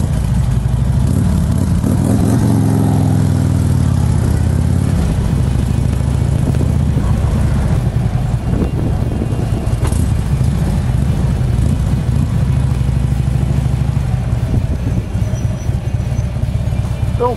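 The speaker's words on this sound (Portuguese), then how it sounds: "Escapamento Vance coisa linda, ó." A motorcycle engine rumbles loud and close, revving repeatedly through a throaty Vance aftermarket exhaust for the whole stretch.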